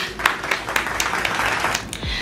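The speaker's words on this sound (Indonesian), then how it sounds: "Tepuk tangan dulu." A few hands clapping at an indoor beauty-product review, sparse irregular claps over a low hum, moderately close and not very loud, ending with a brief low swoop.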